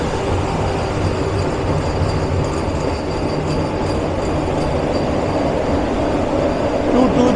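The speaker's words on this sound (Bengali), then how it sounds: "আবার বন্দে ভারত এগিয়ে যাচ্ছে" A Vande Bharat Express train races past at speed beside a Kumbh special train, its loud, steady rumble of wheels and rushing air filling the whole stretch with no let-up.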